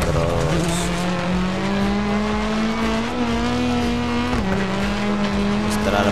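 A rally car in the DiRT Rally 2 racing game holds a loud, continuous engine drone that rises and shifts in pitch as it accelerates, with a gear change and some tire noise throughout.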